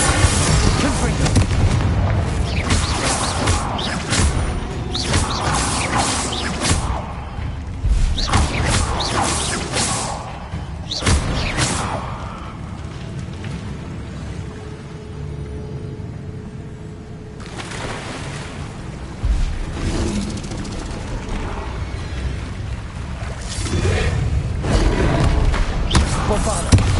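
Bombarda and Confringo spells in Hogwarts Legacy set off repeated heavy explosions and blasts, loud booming bursts in irregular bursts over about half a minute, with a quieter lull in the middle and a player shouting spell names.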